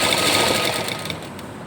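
A sewing machine stitching fabric for a gents' nekar runs in a steady, rapid mechanical whir with fast repeating needle clatter, close and continuous throughout without talk.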